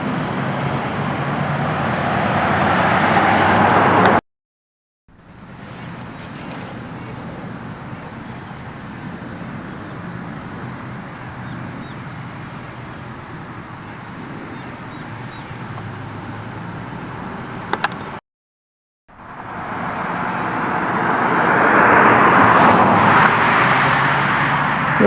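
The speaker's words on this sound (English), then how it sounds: "sorry if it gets loud, there is vehicles going around" Road traffic beside an old Lutheran church cemetery, with vehicles rumbling past close by in long sustained swells, broken by two brief silent gaps, and no talking.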